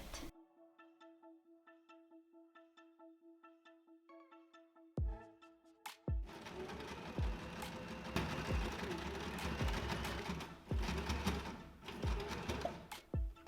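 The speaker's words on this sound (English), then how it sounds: "And now let's sew the sleeve to the shirt." Sewing machine stitching a sleeve onto a classic shirt, starting with a steady, quiet rhythmic whir, then after a pause running faster and louder with dense mechanical clatter up close; no talking.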